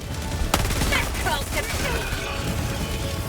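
Rapid gunfire from a secondary weapon in the video game Helldivers 2 opens with a sharp shot followed by a dense rattling burst, heard under a voice speaking.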